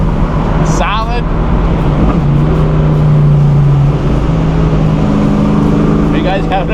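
A 1971 Chevrolet Nova SS with a 375HP engine and 4-speed gearbox pulls hard from inside the cabin, a loud continuous engine drone with rising tones during acceleration.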